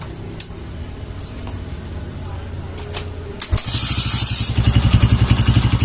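A Kawasaki KLX 150 motorcycle engine, carburetor vacuum rubber being set, cranks and starts after a few seconds of quiet clicks, then idles loudly and close with a fast, even pulsing beat.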